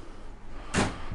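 A kitchen utensil drawer in a 2023 Avenger 32BHS travel trailer slides and bumps shut, one brief close thud after a quiet moment, no voices.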